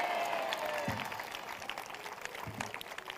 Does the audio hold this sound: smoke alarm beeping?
no